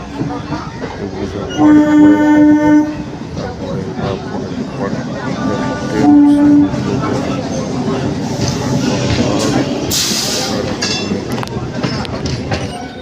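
A packed local train out of Howrah on a winter morning clatters along, its horn blaring twice in loud sustained blasts over the rumble of wheels and steady crowd chatter.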